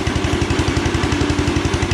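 An old riding lawn mower engine runs steadily up close, a loud, rhythmic chugging putter with a fast even beat and no talking.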